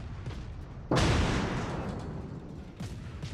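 A heavy naval gun salvo booms in the World of Warships game, one sudden loud blast near one second that rolls off slowly, over a low background rumble, with a fainter thud near the end.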